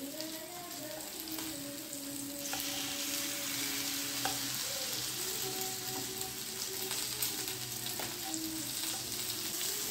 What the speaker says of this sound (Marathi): तर आता आपण सगळे फिश आता पलटून घेऊया.